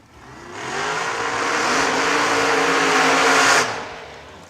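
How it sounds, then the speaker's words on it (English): A drag racing car roars at the burnout box, its engine revving loud and close in one sustained, rising blast of tire-spinning noise that cuts off abruptly, with no voices over it. "And Dennis Mead, Chad Axford, the burnout box."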